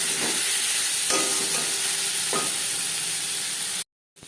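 Eggplant fries in a little oil in a pan, a loud, constant sizzle broken by a few scraping stirs of a spatula, then a sudden cut to silence near the end.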